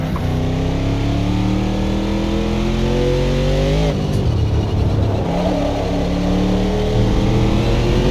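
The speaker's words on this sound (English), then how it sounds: "Supercharged. Got some nice whine to this motor." A supercharged car engine accelerates hard with a loud rising whine, pitch climbing through gears with a brief shift, close and continuous, no talking over it.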